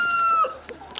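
A rooster crows over clucking hens and other poultry, a single drawn-out crow that breaks off into shorter, busier farmyard calls within about a second.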